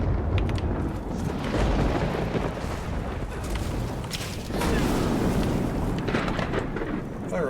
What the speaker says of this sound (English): this storm needs to chill out